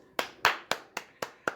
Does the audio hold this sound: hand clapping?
yes